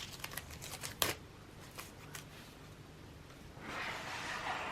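Masking tape being peeled away from paper gives a series of sharp, close tearing crackles, with one louder rip near the start and a steadier, hissing peel toward the end.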